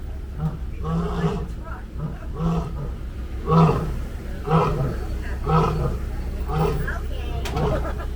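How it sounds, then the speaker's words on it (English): Lion at the Kilimanjaro Safari in Disney's Animal Kingdom, giving a series of deep, rhythmic roaring grunts, close and loud, repeating roughly every second over a low engine hum. "those are legit lion roars"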